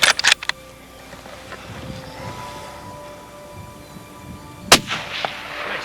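A single loud rifle shot rings out and echoes while hunting a stag outdoors in New Zealand, followed by a second sharp crack a few seconds later amid light wind and faint rustling.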